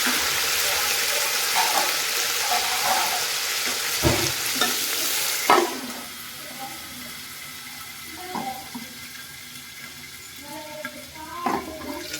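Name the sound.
mustard seeds, curry leaves and onion sizzling in hot oil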